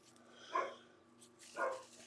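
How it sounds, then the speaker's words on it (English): A dog at home barks twice, with about a second between the barks. The barks sound somewhat distant and are moderately loud against a quiet room. "Why is my dog freaking out?"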